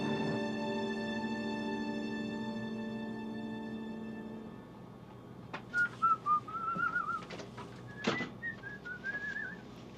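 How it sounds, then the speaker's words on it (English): A person whistles a short, wavering tune in brief phrases that follow a steady low droning hum. The whistling is clear and fairly close, with no speech. "I've ever seen anybody whistle and smile at the same time"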